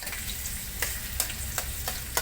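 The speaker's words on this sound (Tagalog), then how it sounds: "Nga mainit ng ating kawali, ayan, pagsabay na natin ang sibuyas at bawang." Onion and garlic sauté in hot oil in a kawali, a steady close sizzle with a few sharp scraping stirs of the utensil spaced through the short stretch.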